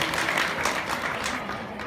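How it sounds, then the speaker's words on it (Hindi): An audience claps loudly at a Hindu religious scripture recitation gathering, a dense, sustained burst of many hands applauding together in a large crowd. "एक बार आप अपनी नगरी के नाम की जोरदार ताली बजा देंगे"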